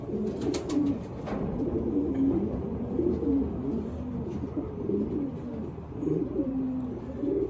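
Several pigeons coo continuously nearby, with overlapping low rolling coos repeating in steady waves and occasional faint higher chirps in the background.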